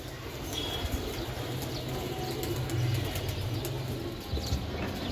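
Giribaz flying pigeons fill the air with a constant, close mix of low cooing and wing flutter, a dense flock noise that never lets up.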